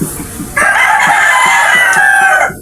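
A bulik-breed hen clucking loudly and close, a drawn-out rhythmic cackle of repeated calls after a few soft clucks.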